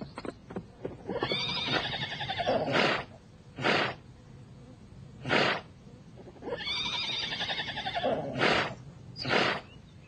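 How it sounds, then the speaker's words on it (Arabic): A horse in an animated historical film neighs loudly in two long whinnies, each followed by short snorting bursts, close and dramatic with no speech. "حصان جاركم يهاجم حصانكم هناك"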